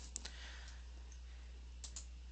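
Computer mouse clicking while editing a table in a document, a few sharp, quiet clicks in close succession near the start and again near the end, over a faint steady hum.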